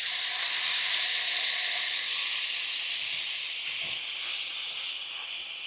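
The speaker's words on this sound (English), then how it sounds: "We're going to saute this at high heat. Try and get a nice little sear." Marinated tofu sautés at high heat in about a tablespoon of hot oil, giving a loud, steady, close hiss that eases slightly toward the end.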